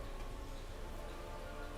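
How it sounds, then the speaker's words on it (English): Steady rain falls continuously, a dense even patter of drops close by with no talk over it. "I like that it's raining."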